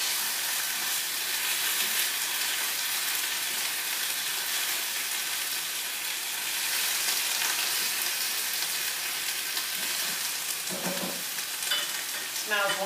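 Cauliflower gnocchi stirred in sauce in a sizzling pan, a steady bright frying hiss with soft scraping of the stirring throughout and a few louder clinks near the end.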